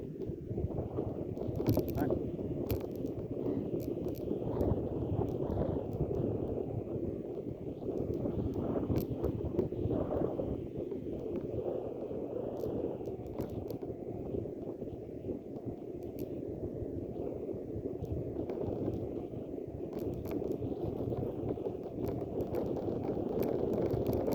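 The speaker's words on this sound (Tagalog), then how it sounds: "Mahangin lang guys." Wind buffets a microphone outdoors as a steady, loud, rough rumble that persists throughout, with faint voices occasionally underneath.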